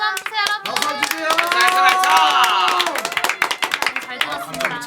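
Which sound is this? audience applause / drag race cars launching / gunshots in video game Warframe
audience applause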